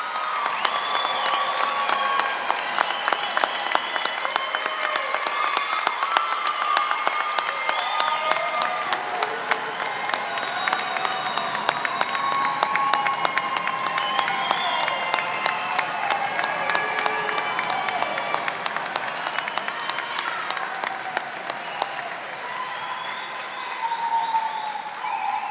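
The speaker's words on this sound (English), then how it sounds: "Let's give our graduates one more round of applause." A commencement crowd applauds spring graduates with continuous clapping, punctuated by scattered cheers and whoops throughout, holding strong before easing slightly near the end.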